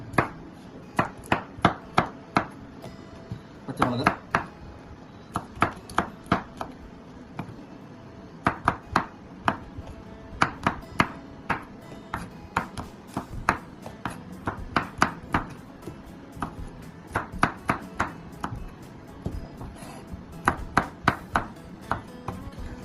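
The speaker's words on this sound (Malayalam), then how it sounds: "പച്ചമുളക് ഞാൻ അരിഞ്ഞ് വെച്ചു" Green chillies being chopped with a knife on a board for mutton dum biryani, in dense bursts of quick, crisp blade taps with brief pauses between runs, close and clear with no talking.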